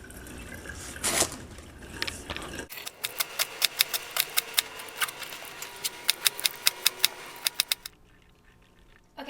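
Knife thinly slicing leeks for potato leek soup on a cutting board, a steady run of about twenty crisp, evenly spaced chops, close and fairly loud, after a brief rustle of handling.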